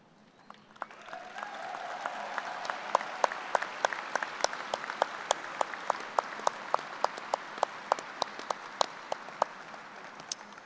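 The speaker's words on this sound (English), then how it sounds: "I ask that you, our graduates, to please stand and applaud their contributions to your success" Graduates at a spring business administration commencement applaud their faculty and staff, a steady wash of clapping from a large crowd that builds and holds for about ten seconds, with sharp individual claps standing out.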